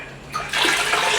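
Water gushes strongly from a tap in the women's restroom at a campsite in Tagaytay. It starts softly, then becomes a loud, steady, close rush with no talking.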